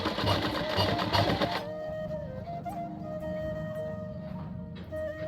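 A sewing machine stitches a cotton lungi in a rapid steady whir, loud at first and then settling into a quieter continuous run, close by with no talk.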